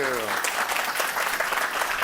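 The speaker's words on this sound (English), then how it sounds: "So I'm interrupting the applause." Audience applause fills the room after a conference talk on productive conflict, a dense, steady clatter of many hands held at an even level throughout, with a voice briefly over the start.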